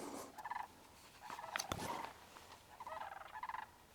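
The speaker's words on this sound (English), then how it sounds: "Sandhill cranes." Sandhill cranes calling outdoors on a chilly morning, bursts of rattling, trumpeting bugles heard at a moderate distance, several calls in quick succession with short pauses between.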